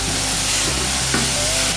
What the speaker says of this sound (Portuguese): Então vamos acrescentar aqui a cenoura picadinha.